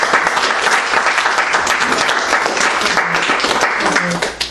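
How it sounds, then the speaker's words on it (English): A church congregation claps loudly and continuously in a dense, steady wash of hand claps, with voices faintly mixed underneath and the applause tapering off at the very end. "Come on, give the Lord a big hand clap."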